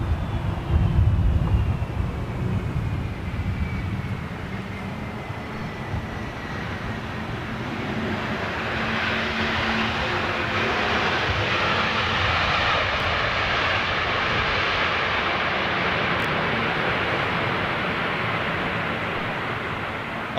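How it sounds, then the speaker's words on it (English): American Airlines Boeing 777 jet engines spooling up at a distance, a rising whine giving way to a broad, steady roar that swells and holds, heard outdoors with no talk. "Oh, that's that American 777 starting up down there. That's the noise we're hearing."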